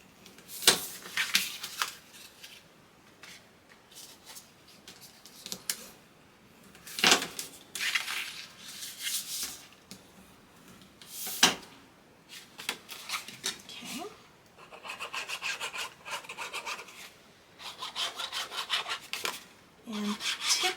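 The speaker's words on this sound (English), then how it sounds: "Now we're going to fold and burnish our pocket." Paper pocket for a handmade mini album being folded and burnished, with bursts of dry rubbing and scraping strokes spaced across the stretch, close and fairly quiet, no talking.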